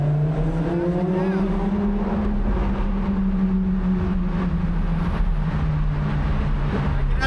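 A Lamborghini Performante Spyder in corsa mode drives through Tokyo, its engine loud and close, the pitch sliding smoothly across sustained, continuous revs.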